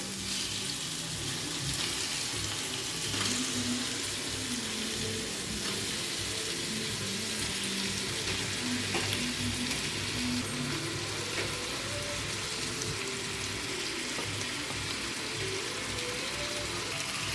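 Fish pieces dropped in with tomato pieces already frying in a pan for a Telugu-style fish curry, giving a steady, close sizzle that holds for the whole stretch with faint clinks underneath and no talking.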